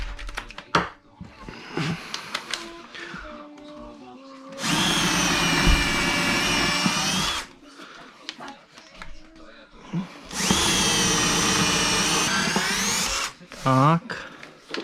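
A power drill bores a hole through kitchen cabinet wood in two sustained, loud bursts separated by quieter pauses with handling noise and brief speech, ending with a short rising whine.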